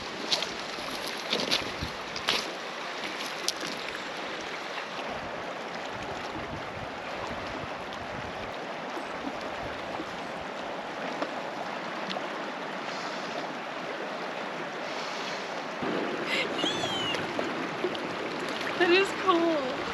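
A river flows steadily in the open air as a soft, constant wash of water, heard from a short distance and staying fairly quiet throughout, with a slight swell toward the end.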